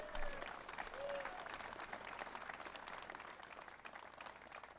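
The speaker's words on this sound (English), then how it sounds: "Let's give another round of applause for Governor Shapiro." Audience applause at a Pennsylvania event announcing an Amazon data center investment, a steady wash of clapping from a large crowd that holds evenly for several seconds before tapering slightly.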